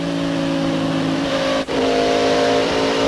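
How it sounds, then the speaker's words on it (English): NASCAR stock cars at the 1998 Pennsylvania 500 roar into turn one, a loud, steady engine drone with layered tones and a brief dip midway, no talk. "You see it there in second spot, and Ward Burton with that X-side number 99 right in there steaming into turn one."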